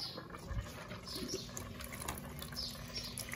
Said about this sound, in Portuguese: Eu vou colocar ela para drenar essa água.